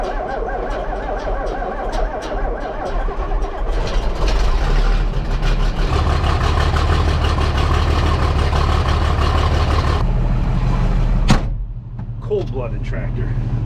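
Hagie tractor engine idling steadily just after a cold start, a loud, continuous low rumble close by, with a brief clunk near the end and talk over it.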